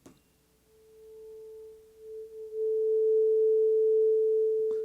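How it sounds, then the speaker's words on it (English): A tuning fork used for piano tuning rings out a steady pure tone that swells after a quiet start, then sustains loud and unwavering until a brief knock at the end. "I don't know if you heard that, but you hear the tuning fork and you use it to tune"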